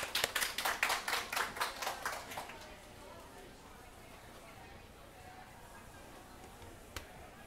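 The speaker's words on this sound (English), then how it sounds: "Please welcome him with a big applause." A crowd's applause greets a forestry official at a climate conference on Asian forests, a burst of rhythmic clapping for about two and a half seconds that quickly fades into room murmur, with one sharp tap near the end.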